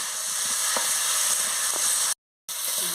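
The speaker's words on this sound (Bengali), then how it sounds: "আমি ফুলকপি আলুটা দিয়ে দিয়েছি, দিয়ে ভালো করে মশলার সঙ্গে কষিয়ে নিচ্ছি" Cauliflower and potato frying in masala, a dense steady sizzle with a couple of soft stirring scrapes, close and continuous, briefly dropping to silence near the end before resuming.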